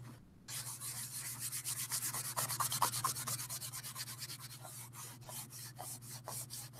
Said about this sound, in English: Wet, and then you just rub.